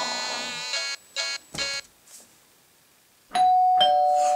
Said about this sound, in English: The doorbell!